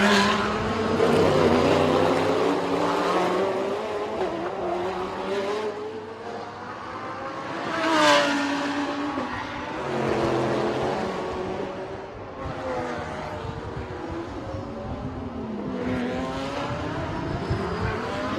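Race cars at the Bangsaen Grand Prix street circuit, including a Lexus, roar past in a continuous stream, with engines rising and falling as they approach and pass, sometimes from close and sometimes from further off.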